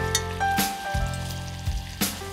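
Sliced luffa tossed and stir-fried in a wok with a little oil and garlic, a steady sizzle broken by several loud scraping clatters of the spatula against the metal.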